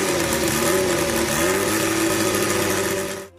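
A custom four-cylinder motorcycle engine built for a Honda Monkey frame runs on a test bench with a steady, loud mechanical drone, then cuts out abruptly just before the end.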